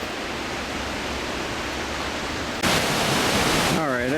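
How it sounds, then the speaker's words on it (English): A waterfall at Pagosa Hot Springs pours in a steady, broad rushing roar that swells louder partway through, with a brief warbling tone near the end. "I found the first view of the waterfall"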